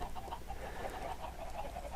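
Chickens in a Minecraft chicken farm cluck in a dense, overlapping chorus, many short repeated calls blending into a constant, fairly quiet babble with no talk.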